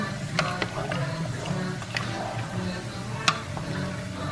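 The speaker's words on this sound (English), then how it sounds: "a tablespoon of salt, mix that in" A spoon stirs a tablespoon of salt into rice in a cooking pot, giving soft, irregular scrapes and light clicks over a low steady background hum.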